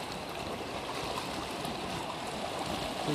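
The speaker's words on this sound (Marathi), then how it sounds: "पूर्ण असा लाट हाणत आहे" River water swollen by heavy rain rushes steadily and loudly over stones, a dense, unbroken roar of flowing river with no voices.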